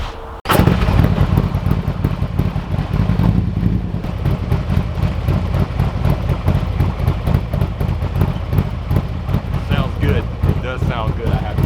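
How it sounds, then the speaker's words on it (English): Loud, close, sustained engine roar of a Harley-Davidson Street Glide on a dyno with exhaust baffles removed, starting abruptly and holding a deep rumbling drone with a brief surge, while a voice speaks briefly. "We'll do a dyno run with no baffles."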